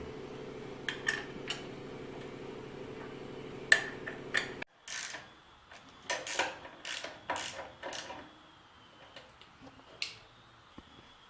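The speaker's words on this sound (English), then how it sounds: "Now we'll just reinstall the 4 bolts." Ratchet driving the four bolts back into the fuel tank on a Gen 3 Indian Scout motorcycle: quick bursts of sharp clicking, close and fairly quiet, following a steady humming drone that cuts off partway through.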